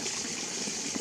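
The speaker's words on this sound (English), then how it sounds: "here we are again at our little waterfall. As you can see, it's running quite nice." A small backyard waterfall runs steadily after heavy rain has left the ground saturated: a continuous, close, full rush of falling and splashing water with no pauses and no voices.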